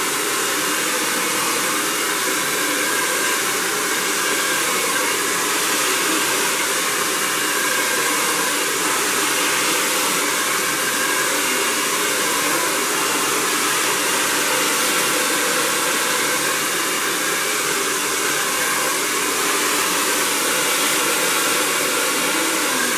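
A hair dryer blow-drying hair with a round brush gives a steady, loud, unbroken rushing whoosh that holds at one level the whole time, with no talking over it.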